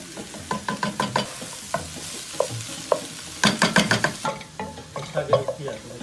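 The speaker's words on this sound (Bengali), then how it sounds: "পেঁয়াজ ভাজবে" Onions with green chilli and salt frying in a pan, a steady sizzle under repeated scraping stir strokes and a few utensil knocks, close and moderately loud with no talking.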